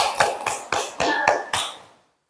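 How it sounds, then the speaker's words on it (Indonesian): A short burst of hand claps in a classroom for a student group, about six sharp, evenly spaced claps that ring out briefly before falling silent. "Tepuk tangan untuk kelompok transformer."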